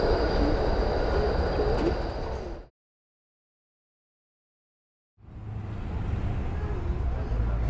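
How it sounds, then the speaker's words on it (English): An E-class tram in Melbourne's CBD rumbles along in a dense, steady rattle of wheels and carriage noise, cut by a few seconds of total silence before the rolling sound resumes. "To the E-class tram."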